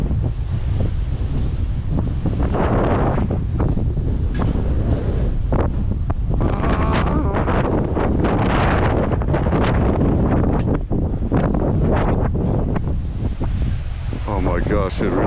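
Strong wind roars and buffets a microphone during a May 2025 dust storm in Illinois, a loud, constant rushing broken by gusty thumps, with faint talk occasionally underneath.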